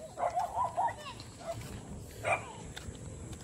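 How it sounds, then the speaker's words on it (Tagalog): Several dogs barking in short bursts outdoors, moderately near, with a later louder bark over a noisy background rumble. "Daming aso."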